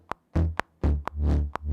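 A Serum synth patch with an added sub oscillator plays short, punchy notes with a deep, full low end. Sharp percussive clicks alternate with the notes in a steady rhythm.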